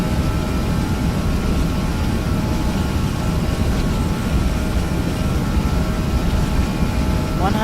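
Airliner jet engines in Flight Simulator X spool up for takeoff, a steady, loud low roar with a broad rumble and faint whining tones held constant throughout.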